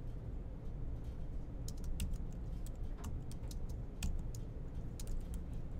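Rapid keyboard typing during a programming session in Processing, a steady run of light clicky keystrokes over a low room hum, close and moderately loud throughout.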